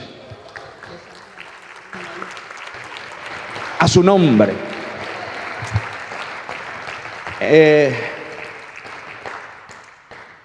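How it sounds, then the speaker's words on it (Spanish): Church congregation applauding during a sermon, two short bursts of clapping rising out of a preacher's steady talk, the second loud and close, each fading after a second or two. "Un aplauso para Cristo."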